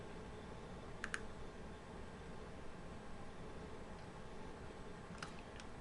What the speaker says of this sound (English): So when I click the submit button,